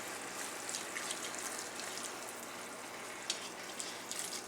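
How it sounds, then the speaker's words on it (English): Stock poured into a hot pan with vegetables and seasonings, giving a steady hiss and sizzle with faint splashes, fairly quiet and continuous, with no voices. "pour our stock in there"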